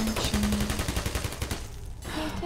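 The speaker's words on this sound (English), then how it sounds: "So yeah, that's a turret. It senses me, so it shoots bullets at me." A Portal turret fires a rapid burst of bullets in dense, rattling bursts that fill the clip before cutting off, followed by a brief electronic tone.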